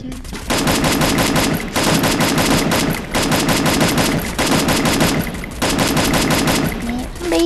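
Rapid automatic gunfire in the mobile shooter game Garena Free Fire, loud sustained bursts of several seconds separated by short pauses, close and dominant, with brief voice sounds in between.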